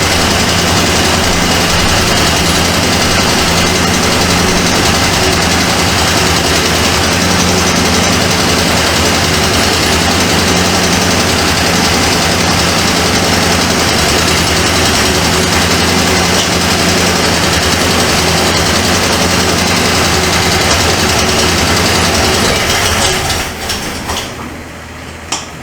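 A 1978 Ford Mustang II engine runs steadily and loudly for about 23 seconds with a constant, unbroken drone, then dies down sharply near the end.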